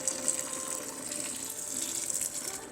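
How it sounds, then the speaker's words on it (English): Water pours slowly and steadily over the grain bed while brewing a cherry wheat beer, a soft continuous splashing trickle without talk. "So we're just going to slowly cover our grains with this water"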